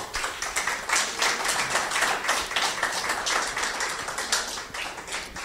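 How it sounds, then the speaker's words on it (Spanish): A church congregation applauds during a Spanish-language sermon: dense, sustained clapping from many hands, loud and close, continuing steadily throughout with no voices over it. "Vamos a darle un aplauso a Él,"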